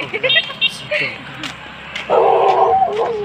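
A dog gives a few short yips and barks amid people talking nearby.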